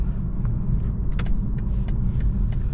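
A 2021 BMW 330i xDrive pulling away in sport mode, giving a steady low engine and road rumble with faint clicks and ticks on top, heard from inside the cabin.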